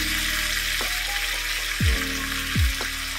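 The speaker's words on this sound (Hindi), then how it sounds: "ऑयल हमारा गर्म हो गया है ये तड़के के लिए हमने इसमें डाल दिया जीरा और ये हमने जो चॉप अनियन हैं वो डाल दिए" Cumin seeds and chopped onions hit hot oil for a tadka in a jackfruit sabzi, a loud continuous sizzle with a low steady hum and two brief swooping tones partway through.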